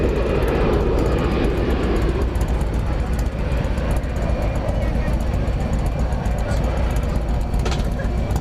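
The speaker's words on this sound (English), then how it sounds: "That's an American Airlines plane going to San Antonio, Texas, flight 1406" American Airlines Airbus A319, a 12-year-old jet bound for San Antonio, passing at DFW Airport at night: a steady, loud broadband engine roar filling the whole clip, with a low rumble swelling early, under people talking.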